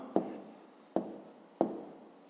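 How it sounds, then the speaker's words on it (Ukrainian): Pen writing a maths answer on paper, three short sharp pen strokes at steady intervals, each dying away quickly, close and fairly quiet with no talking. "Про всяку випадок пишемо відповідь."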